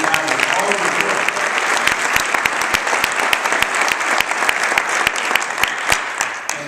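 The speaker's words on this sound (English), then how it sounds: "Let's give a round of applause to Bruce Adams for all of his work." An audience at a county volunteer council annual meeting gives a round of applause, full and steady, with sharp individual claps standing out close by throughout.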